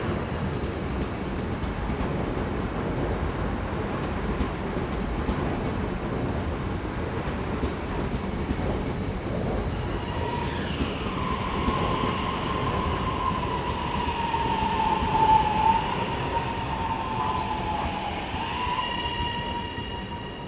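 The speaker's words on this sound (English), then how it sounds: "It wasn't long before my train to East Pakenham arrived." An HCMT suburban train pulls into the platform at East Pakenham station in Melbourne, with a steady rumbling roar that builds slowly and a long squealing brake tone toward the end.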